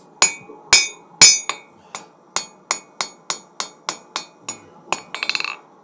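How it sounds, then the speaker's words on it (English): Metal hammer blows ring out as hot steel is forged into a knife point on an anvil, a dozen sharp clangs at a steady pace, ending in a quick flurry of lighter bouncing taps. "We'll change that hammer technique to that side swing."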